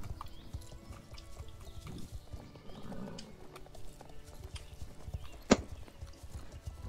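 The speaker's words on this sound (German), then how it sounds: "Oh, ich habe ein Pferd gehört." In the Star Stable video game, steady horse hoof clip-clops run under a busy game soundscape, with one sharp whinny-like burst partway through; moderately loud and close.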